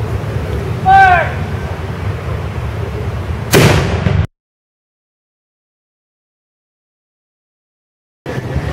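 A single cannon salute shot, loud and close, bursts out in a sharp blast with a brief rumbling tail at an outdoor Fourth of July ceremony in Litchfield, followed by a stretch of silence and crowd murmur around it.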